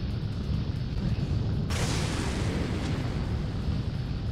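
Distant cannon fire in the Hakuoki: Kyoto Winds game, heard as a continuous low rumbling roar with a sudden brighter, louder burst partway through, sustained without speech.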